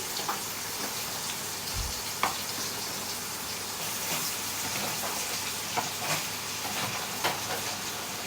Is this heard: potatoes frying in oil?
yes